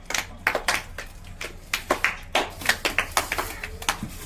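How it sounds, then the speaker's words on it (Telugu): Several people clap their hands at home during a children's alphabet guessing game, a quick irregular burst of close claps running steadily for a few seconds. "కంగ్రాట్స్ క్లాప్స్ కొట్టండి"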